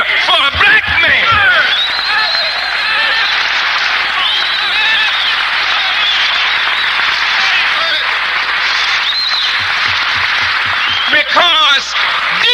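A large crowd at a speech shouts, cheers and applauds in a continuous dense roar, with scattered whoops rising above the sustained noise.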